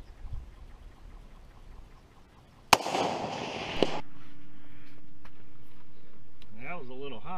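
A 6.5 Grendel rifle fires once during long-range shooting: a single sharp, loud crack, then a short burst of noise settling into a steady hum, with brief vocal sounds near the end.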